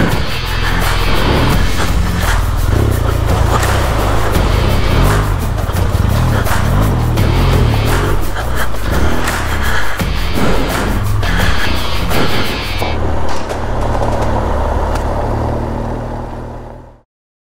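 An off-road motorcycle engine revs hard and loud for most of the run on an off-road riding course, its roar holding steady before suddenly thinning and fading out near the end.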